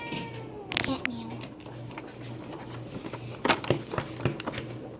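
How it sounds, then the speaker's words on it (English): A few short cat meows come close and clear, spaced across a few seconds, with light ticking and handling noises in between. "Cat meow."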